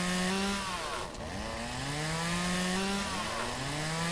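A chainsaw in the Farmer's Dynasty farming game revs and cuts through shrubs, a loud continuous buzzing whine that dips briefly then rises and holds, pitch sliding as the engine load changes.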